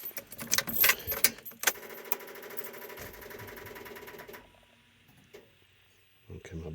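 A Mopar D150 pickup's starter cranking on a weak battery, a rapid rattling chatter that runs for a few seconds, then cuts off into near silence before a brief noise at the end.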